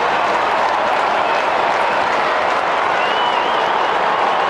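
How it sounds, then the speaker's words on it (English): A large crowd at an Australian rules football match roars and cheers continuously, loud and dense, a sustained wall of stadium noise with no break. "Listen to the crowd."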